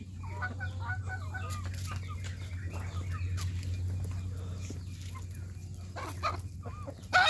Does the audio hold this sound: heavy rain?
no